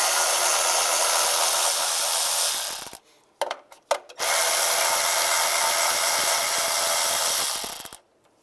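Power tool spinning out bolts with a 10mm socket on a 2007-2013 Chevrolet Silverado 1500, a loud steady whir running about three seconds, a short pause with a few clicks, then a second long continuous whir ending abruptly.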